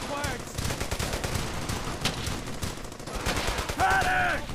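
Rapid gunfire from a World War II squad shooter, dense crackling bursts of rifle and machine-gun shots running continuously at close range, with a shouted voice cutting in near the end.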